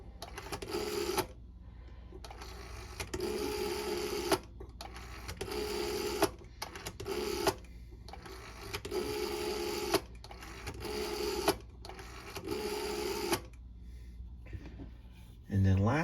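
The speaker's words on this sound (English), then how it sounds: "So now I'll dial a few numbers here." A 1941 Siemens Brothers Type 307 rotary telephone being dialed, the dial whirring and ticking back in repeated bursts separated by short pauses, close and mechanical.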